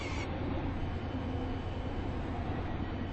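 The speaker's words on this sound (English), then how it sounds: "The train now approaching Platform 6 terminates here." A train from a video game rumbles into a platform at Stepford Central, a steady, continuous low roar of wheels and carriage noise that stays loud throughout, with no talk over it.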